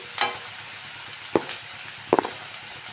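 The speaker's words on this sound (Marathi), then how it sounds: "कांदा नीट परतून घ्यायचं." Onion sautéing with salt in a pan: a faint soft sizzle broken by a few quick spatula scrapes and light clinks, close and sparse.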